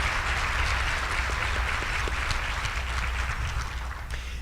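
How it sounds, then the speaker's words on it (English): Audience applause at a breakfast keynote event, a sustained wash of clapping from a room full of people, fairly even in loudness and easing slightly toward the end. "let's give them a round of applause"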